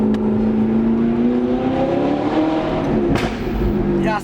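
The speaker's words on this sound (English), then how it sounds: "Backfire." A loud pop bursts from a revving car's exhaust as the engine backfires on ordinary pump fuel during a ride-along, a sharp crack cutting through the steady in-cabin engine drone.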